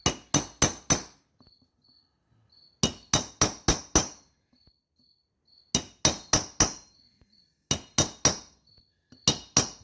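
Sharp metallic hammer blows driving aluminum back against a loose valve seat in a Briggs & Stratton engine head, struck in quick bursts of four or five close, ringing hits separated by short pauses, with no talk.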